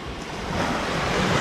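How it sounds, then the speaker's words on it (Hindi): Sea waves surging near an island shore where boats sit, a steady broadband wash of surf that swells slightly louder partway through, with some wind noise and no talk. "अब यहाँ पे थोड़ी वेव्स हो गई हैं"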